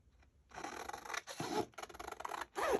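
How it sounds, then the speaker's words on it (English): Scissors snip through paper in a few close, crisp rasping cuts with short pauses between them, no voices. "The thing about the sound of scissors on paper."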